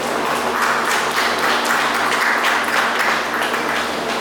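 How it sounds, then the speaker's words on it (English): An audience at a mayoral candidates' debate breaks into sustained applause, a loud, dense wash of clapping from many hands that continues evenly from start to finish. "one round of applause to Ms. Harlow for hosting this event tonight"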